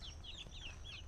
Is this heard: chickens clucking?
yes